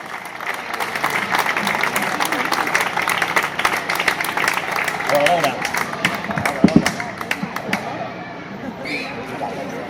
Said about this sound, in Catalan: Un fort aplaudiment, Andreu, moltes gràcies.